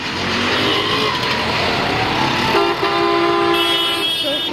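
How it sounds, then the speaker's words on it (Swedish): A vehicle horn toots in heavy road traffic in Chittagong, Bangladesh, heard from aboard a bus with a broken window, sustained honks rising over a constant roar of engines and street noise. "Tuta."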